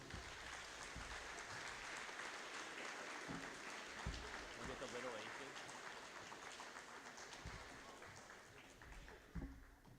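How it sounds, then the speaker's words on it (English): At a high school awards evening, the audience gives school volunteers a continuous round of applause, a faint, distant wash of many hands clapping for about ten seconds. "Let's give a big round of applause to all these volunteers."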